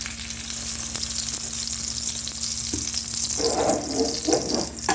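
Moroccan msemmen flatbread cooks in a pan with a steady, close sizzle and a low hum, then brief scraping and crackling bursts near the end, and no one speaks.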